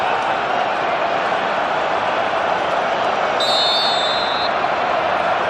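World Cup stadium crowd at the 2018 Russia vs Saudi Arabia match, a constant dense roar of thousands of voices with a brief high whistle-like tone, commentary faintly under it.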